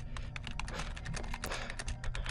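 Rapid, steady keystrokes on a computer keyboard, a dense run of close clicks with no talking.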